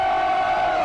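A dense crowd of Flamengo football supporters roars and chants around the team bus, a loud, continuous wall of voices holding a sustained pitched tone throughout.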